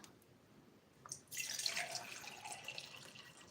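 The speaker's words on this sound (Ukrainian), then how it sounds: "По пів баночки наливаємо водички." Water pours from above into half-litre jars for rooting ficus cuttings, a bright splashing stream that starts after a few faint drips and runs steadily at close range.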